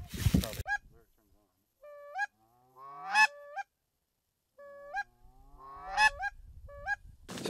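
Several geese honk in repeated bursts of calls near a lake during a hunt, some close and loud, others trailing off, with gaps of quiet between the flurries.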